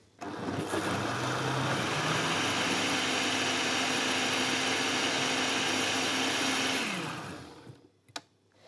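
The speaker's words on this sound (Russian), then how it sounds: "Сейчас я все это доработаю в блендере." A blender runs loudly and steadily for about six seconds with a droning motor whir while pureeing salmorejo soup, then winds down and stops, followed by a couple of faint clicks.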